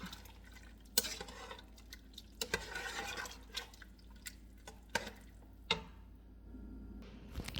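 A spoon stirs tinola soup in a pressure cooker pot, with scattered clinks and scrapes against the metal and wet sloshing between quiet gaps.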